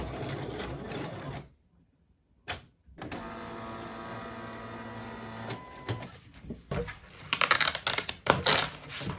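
A Silhouette cutting machine works through a sheet of stickers on a cut mat, giving a steady mechanical whirr and motor drone with short bursts and clicks from the carriage as it moves, loud and close, with no talking.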